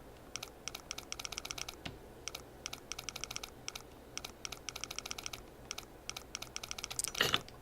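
A safe's combination dial clicking in The Long Dark, heard as steady clusters of rapid, regular ticks repeating in groups with brief gaps, faint and close, ending in a louder rattle near the end.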